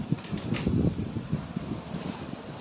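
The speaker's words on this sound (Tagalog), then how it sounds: "malakas ang hangin na dito sa second floor" Steady, rushing wind buffets the microphone with low rumbling gusts, loud and continuous with no voices.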